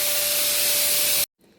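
A spray can hisses in one steady, loud, continuous burst for over a second, then cuts off abruptly, leaving only faint room noise.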